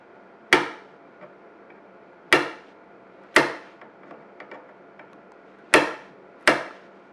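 A spring-loaded ram drift strikes a rifle's dovetail sight on an older Remington 700 barrel, five sharp metallic thumps at uneven intervals with a few faint ticks between, close and alone.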